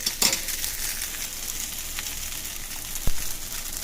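Vegetable lo mein noodles stir-frying in a hot pan after sauce is added, a steady broadband sizzle with scraping stirs and a sharp clack near the end, close and fairly loud with no talking.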